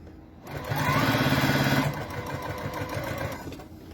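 A sewing machine stitches a bag strap in a rapid, even mechanical whir that runs for about a second and a half, then slows into a softer, rhythmic chugging of the needle.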